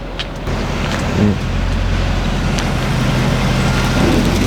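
A straight-piped Mercedes CL63 AMG rolls into a garage bay, its exhaust a steady, loud low rumble close by that holds without a break, with no voices.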